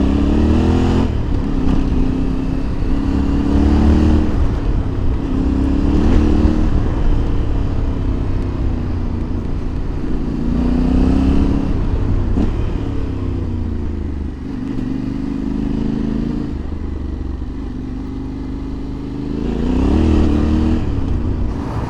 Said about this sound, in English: I'm very curious about the engine sound here